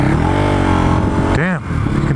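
A Ducati Hypermotard 939 motorcycle engine revs and pulls hard, its harmonic drone climbing steadily before a quick upward sweep as it accelerates, loud and close, with a voice talking over it.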